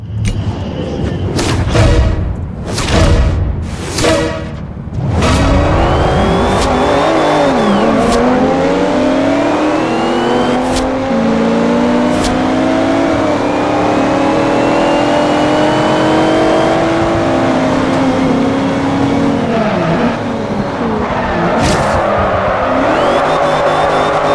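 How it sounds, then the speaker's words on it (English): Race cars in the video game Forza Horizon 2 drag racing with nitrous: engines rev hard and accelerate through rising gear shifts, with sharp bursts and tire squeals early on, then a loud, steady close engine roar throughout. "So this is drag racing."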